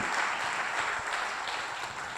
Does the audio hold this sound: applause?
yes